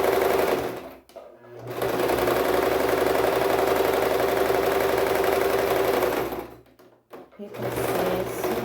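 A sewing machine stitches in long, steady bursts of rapid mechanical whirring, stopping briefly twice before starting up again, close and fairly loud.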